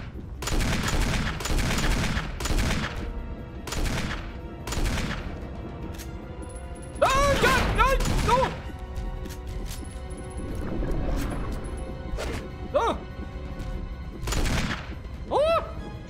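Gunfire in the Resident Evil HD Remake, heard as a run of loud, sharp shots in quick bursts spread through the scene, with game effects in between and excited talking over parts of it.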